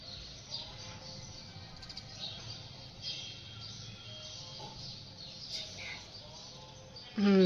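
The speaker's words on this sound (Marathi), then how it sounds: "चिमणी आली. चिमणी चाय प्यायला आलेली." Faint, high chirps from house sparrows come and go over a quiet background, with a sudden louder noise at the very end.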